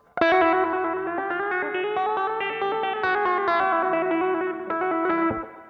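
A distorted electric guitar with effects holds a fast trill while the same string is bent behind the fretting hand, so the pitch slides upward and wavers; the sound is sustained, loud and close, with nobody talking.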